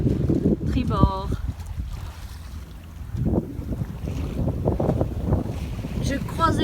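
A sailboat under full sail reaches across a 10–12 knot wind on the starboard beam, water rushing along the hull under heavy wind buffeting on the microphone while a person talks over it.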